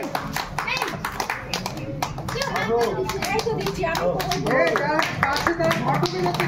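A crowd on a tour in Purulia breaks into loud, dense clapping that runs throughout, with voices talking and calling out over the applause.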